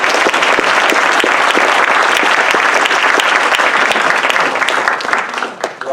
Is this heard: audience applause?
yes